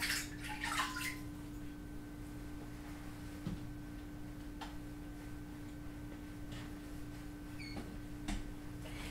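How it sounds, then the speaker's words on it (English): Water runs steadily at a bathroom sink during a nighttime skin care face wash, a faint, even hiss with a few light splashes and drips over a low background hum. "Then you're going to want to wash your face."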